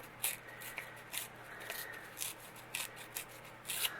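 Paper is torn by hand into small pieces for a craft pocket. Short, quiet ripping and rustling bursts come one after another at close range, with no talking.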